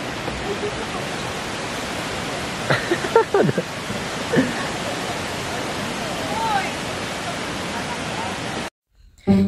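Frog Rock Waterfall in Taiwan pours as a steady, broad rushing roar that fills the scene, with a few faint voices and brief knocks over it before it cuts off near the end.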